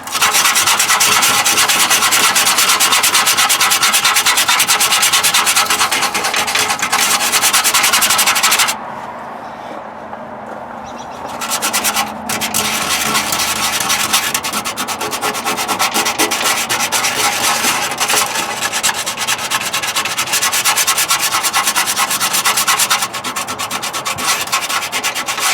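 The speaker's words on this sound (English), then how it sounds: "Some sandpaper." Sandpaper scrubs back and forth over metal to clean a contact surface for a solenoid, a continuous rapid rasping that runs for most of the time, pauses briefly, then resumes at a steady close-up pace.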